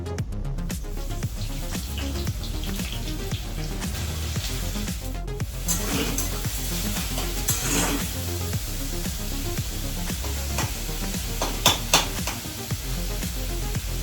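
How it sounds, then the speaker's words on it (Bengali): Chopped onion hitting hot oil with bay leaf in a pan for pork curry, a steady loud sizzle with stirring scrapes throughout. "তেলটা বেশ গরমই হয়ে গেছে, দিয়ে দেব পেঁয়াজ কুচানো।"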